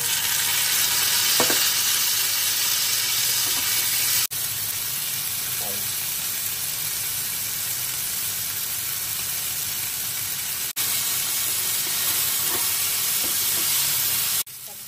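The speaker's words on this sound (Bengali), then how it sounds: "শুকনো লঙ্কাটা একটু ভেজে লাল লাল করে ভেজে দিয়ে দিলাম। টমেটোগুলোকে দিয়ে দিব।" Dried red chilies and tomatoes fry in a hot pan, giving a loud, steady sizzle and hiss throughout, with a few brief stirring knocks and a couple of sudden shifts in level.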